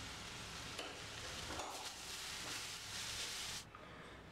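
Vegetables for a macaroni dosa filling sauté in a pan, giving a soft, continuous hiss and sizzle with faint stirring scrapes before it cuts off abruptly near the end.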